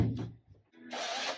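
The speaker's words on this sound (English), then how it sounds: "And this is a dull hole saw" A drill spinning a dull hole saw into a boat build, short whirring bursts close to the microphone: a brief spin, a pause, then a longer grinding run ending with a thump.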